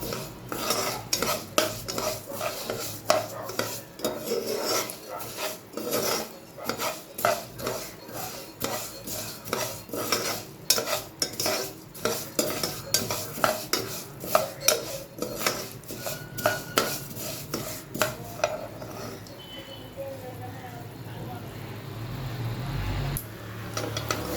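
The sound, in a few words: stirring and frying in a pan while making payasam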